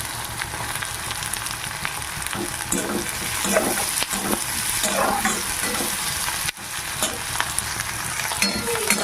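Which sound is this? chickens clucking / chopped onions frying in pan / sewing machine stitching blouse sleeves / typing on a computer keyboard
chopped onions frying in pan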